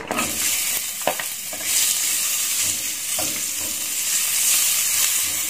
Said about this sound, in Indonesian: kita masukkan bawang bombaynya dulu.